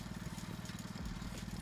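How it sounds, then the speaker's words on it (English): A chainsaw in the video game Go-Go Town runs with a low, buzzing motor drone and a rapid pulsing rhythm, very faint and steady, dipping briefly near the middle. "Use the chainsaw."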